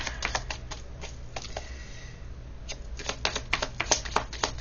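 Playing cards shuffle in quick, clattering riffles, close and fairly loud, with bursts of rapid flicks separated by short pauses and no talk.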